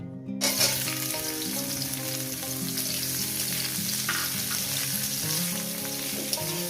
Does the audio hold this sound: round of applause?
no